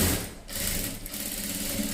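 Sewing machine running steadily while joining the shoulder seam of a child's frock, a continuous close mechanical whir with a brief dip partway through.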